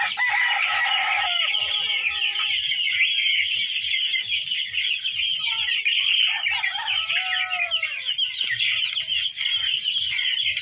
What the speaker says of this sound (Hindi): ये इनके चिक्स हैं